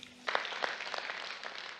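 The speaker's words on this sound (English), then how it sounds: "I can see that you are eagerly clapping" An audience at the Vicenzaoro opening event bursts into brief clapping after a short tone, a scattered, moderately close patter of many hands lasting under two seconds.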